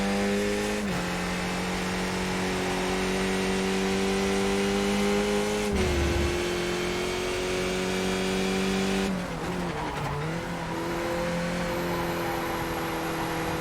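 A race car engine in a racing video game holds a loud, continuous high-revving drone, dipping and climbing in pitch through downshifts and gear changes with no pause.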